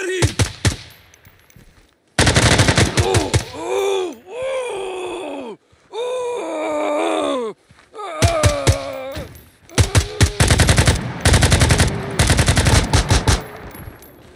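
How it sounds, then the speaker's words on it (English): Rapid automatic gunfire in the tactical shooter game Ground Branch comes in loud, close bursts between pauses. Strained groaning and gasping voices come through between and over the volleys. "I'm under fire!"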